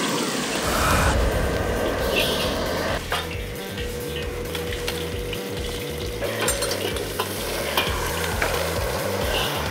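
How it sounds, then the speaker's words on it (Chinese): Pineapple fries in a wok during a chef cooking competition, with loud continuous sizzling, scraping stirs and a brief metallic clatter of cookware. "已经开始煎菠萝了"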